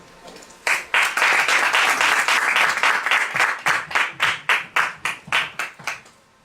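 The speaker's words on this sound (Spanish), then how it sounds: "un aplauso para él" An audience at a talk applauds for a speaker, starting with a sudden burst of dense clapping that thins into a few distinct, rhythmic claps and fades out.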